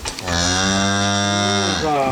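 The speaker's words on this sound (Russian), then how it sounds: "Корова Луза в приходе появилась недавно" A cow kept at a church parish gives one long, loud moo close by, holding steady for about two seconds before trailing off.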